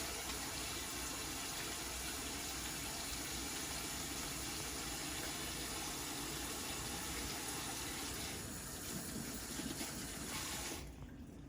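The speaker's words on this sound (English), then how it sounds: "So I'm gonna wash my hands." Steady tap water gushing into a kitchen sink as hands are rinsed after cracking eggs, a continuous close hiss that thins out and stops near the end.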